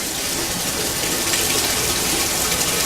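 Ice cold ethanol is poured into a small Erlenmeyer flask in a lab to rinse it, producing a close, continuous splashing hiss of liquid throughout.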